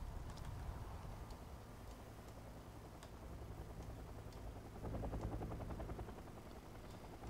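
Many helicopters fly together in the Wargame: Airland Battle strategy game, a steady dense rotor drone with faint ticking, holding loud throughout and swelling slightly toward the end.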